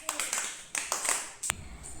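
Children clap in short bursts during a classroom readiness activity, several quick rounds of light hand claps scattered through the moment, fairly close, with background room noise.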